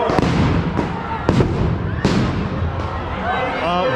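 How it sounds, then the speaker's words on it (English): Flashbang grenades exploding at a street protest: four sharp bangs spaced about a second apart, fairly close, over a steady crowd background. "flashbangs."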